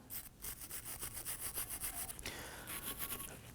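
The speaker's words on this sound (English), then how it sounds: "Use a bristle brush and go ahead and start to scrub this" A bristle brush scrubs scaly rust off a rear brake caliper bracket on a 2015-2024 Nissan Murano, with quick, rhythmic back-and-forth rasping strokes up close and no talking.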